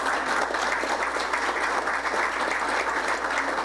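Crowd at a campaign kickoff event applauding with steady, dense clapping that holds at an even, moderate level throughout, sounding somewhat distant and roomy.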